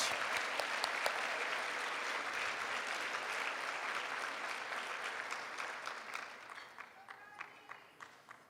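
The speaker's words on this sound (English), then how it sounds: "Please give him a round of applause." Audience applause for a nurse from Swisher County Hospital at a Panhandle nurses awards event, a sustained crowd clapping that gradually thins into a few scattered claps at the end.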